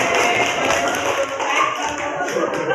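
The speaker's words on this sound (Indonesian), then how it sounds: "Oke, tepuk untuk habis lagi." Students in a classroom clap together in a steady, dense burst of hand claps and taps that runs continuously for a few seconds, with faint voices underneath.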